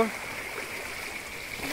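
Stream water at a jungle picnic spot flows in a steady, gentle rush with faint splashing, heard close up, while people talk over it.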